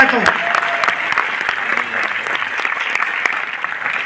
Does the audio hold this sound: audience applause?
yes